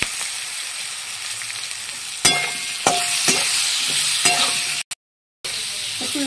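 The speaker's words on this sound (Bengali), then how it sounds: "আর দিয়েছি লাউগুলো ছেড়ে দেব, দিয়ে একটু নাড়িয়ে দেবো" Bottle gourd fried with turmeric, chilli and salt, stirred in a pan: a steady close sizzle with several sharp scraping strokes of the spoon, then a brief cut to silence before the frying resumes.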